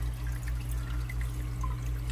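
Water loaded with aquarium filter sludge is poured into a Neocaridina shrimp tank, giving a steady, close liquid trickle with soft drips over a constant low hum of tank equipment.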